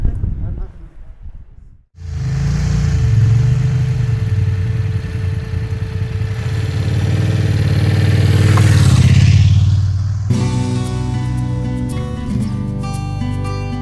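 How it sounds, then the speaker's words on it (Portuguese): Motorcycles ride on a road trip toward Ronda in Spain, a steady engine drone with wind rush that swells and builds, before music takes over near the end; no talk is heard. "a gente decidiu pegar as motos e fazer uma viagem de 2 horas até Ronda"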